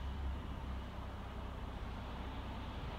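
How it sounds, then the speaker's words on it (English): A steady, distant hum of road traffic at 6:45 in the morning, with cars and trucks blending into a constant low roar and no voices. "listen to all that traffic."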